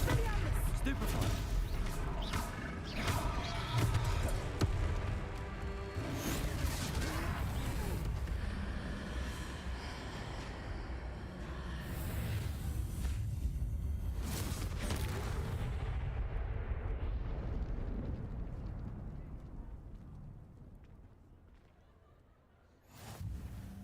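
Spell casting and combat effects in Hogwarts Legacy, fought against a troll: dense, loud bursts, booms and crackling impacts follow one another almost without pause, then fade toward the end before one last hit.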